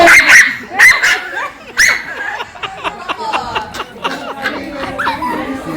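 A dog barks in sharp, loud bursts at close range, then carries on with quicker, lighter yips and whimpers as the barking grows more scattered.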